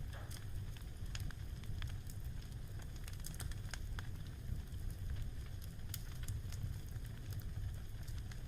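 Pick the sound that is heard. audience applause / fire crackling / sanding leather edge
fire crackling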